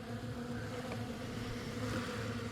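A cluster of honeybees buzzes in a steady, low drone, faint and continuous with slight swells, no voices.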